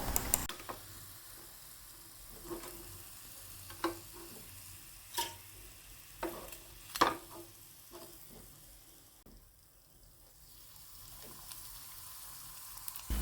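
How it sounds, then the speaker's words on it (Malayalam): Sweet porotta flatbread fries in hot oil, a soft steady sizzle broken by sharp clinks and scrapes of a utensil stirring and turning the pieces, close and moderately quiet, with no talking. "ഇനി നമുക്ക് ബാക്കിയുള്ളതെല്ലാം ഓരോന്നായിട്ടിട്ടൊന്ന് ഫ്രൈ ചെയ്തെടുക്കാം"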